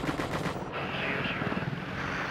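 An Apache helicopter's cannon fires a rapid burst of rattling shots over the steady roar of the aircraft, which carries on loud and close once the firing stops.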